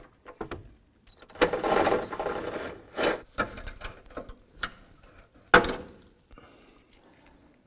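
A socket wrench works a nut off the horn of a 1993-1997 Ford Ranger, giving a series of close metallic ratchet clicks and clanks in short bursts separated by pauses.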